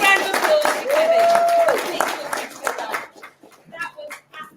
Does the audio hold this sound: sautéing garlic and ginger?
no